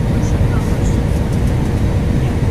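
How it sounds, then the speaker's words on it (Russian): Inside a passenger airliner cabin descending toward Kalininigrad airport, a loud, steady low engine and airflow roar fills the space continuously without a break. "мы начинаем снижаться в аэропорт Калининграда"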